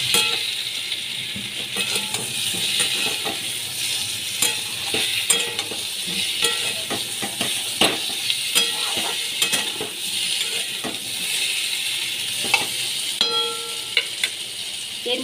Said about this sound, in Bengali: ওল আর আলু আমি ভেজে নিচ্ছি।